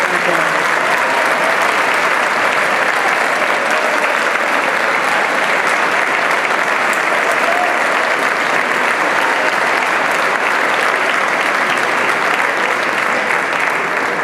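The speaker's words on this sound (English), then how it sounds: "Let's give them a great round of applause" A large crowd at a college all-sports banquet applauds the standing seniors: loud, sustained, evenly dense clapping that carries unbroken for about fourteen seconds.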